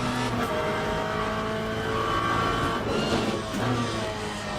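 Race cars from the P2 class sweep past in the Le Mans Ultimate sim, a steady dense engine drone with swelling, overlapping passes and no talk.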